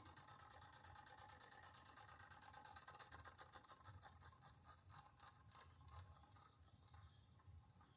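A Wilesco D14EL toy steam engine, new old stock and 110V with a pressure gauge, runs slowly with a fast, steady mechanical ticking and rattling, faint hiss beneath, gradually easing in pace.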